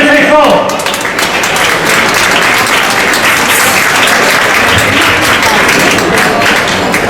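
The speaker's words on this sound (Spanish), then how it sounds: "Un aplauso para Javier Feijóo." Loud applause at an awards gala for the Club Universo Extremeño as Javier Feijóo is welcomed, a dense burst of clapping right up close, with a voice briefly audible at the start.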